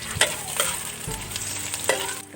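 Food frying in a small amount of hot cooking oil while being stirred, a steady close sizzle broken by a few sharp scraping strokes of the utensil against the pan.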